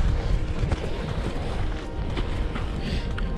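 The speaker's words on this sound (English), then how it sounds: "Wind." Wind buffets the microphone on a winter hike in the Canadian Rockies near Canmore, a loud, rumbling, gusting roar that continues throughout with no one talking.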